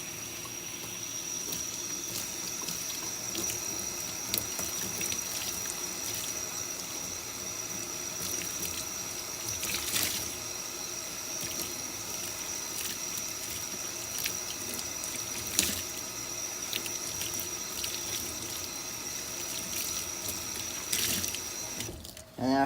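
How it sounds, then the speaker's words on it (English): Water from a tap running steadily over a dirt bike air filter being rinsed clean, a continuous close splashing flow with small shifts as the filter is moved, no talking. "Rinse it off."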